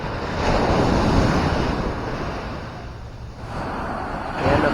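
Waves wash steadily onto a storm-eroded shoreline in the Philippines, with rolling surf surges and wind rumble buffeting the microphone throughout.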